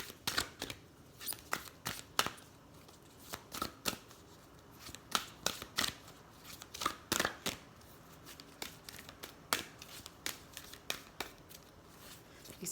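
Sacred Earth Oracle cards being shuffled by hand, a quiet close run of crisp riffling bursts and flicks repeating irregularly over several seconds, with no talk.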